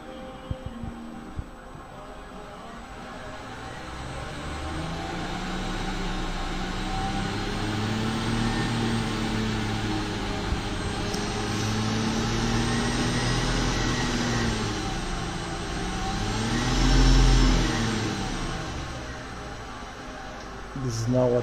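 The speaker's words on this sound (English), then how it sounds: "This is now at high RPMs. We are driving this motor up to 7000 RPMs" A Fiat 500 electric conversion motor spins at high RPM with a smooth, steady whine and low hum whose pitch rises and falls in slow sweeps, close and continuous with no engine firing.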